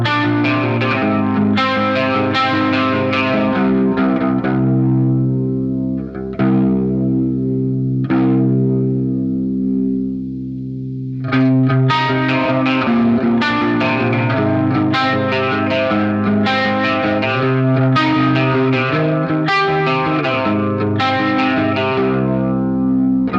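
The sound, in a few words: guitar chorus effect, Ampeg Liquifier on Line 6 HX One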